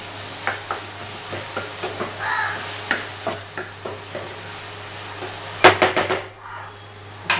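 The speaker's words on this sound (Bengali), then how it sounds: "এটাকে মশলাটার সাথে ভালো করে মিক্স করে নিতে হবে।" Egg devil mixture gets stirred with spices in a pan: a spoon clinks and scrapes in a loose rhythm over a low sizzle, then a quick cluster of louder metallic knocks near the end, close up with no talking.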